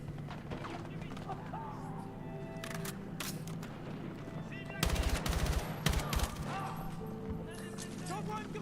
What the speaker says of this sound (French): Je tire